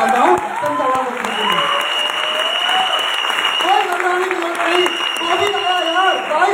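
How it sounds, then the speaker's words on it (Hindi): An audience at a motivational speech event claps steadily and loudly throughout, with a speaker talking over the applause. "एक बार जोरदार ताली चाहता हूँ संजय यादव जी।"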